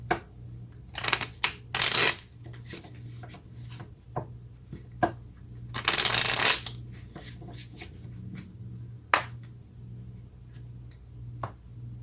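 Tarot cards being shuffled and drawn on a table, with several riffling bursts and soft taps and slides of cards between them, close and fairly quiet.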